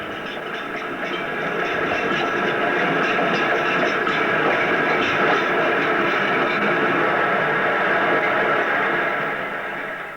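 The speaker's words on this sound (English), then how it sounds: "The boat train arrives." Boat train pulling into the Southampton docks, a dense steady rumble and rattle of rolling railway carriages that swells up and holds loud, with no voices.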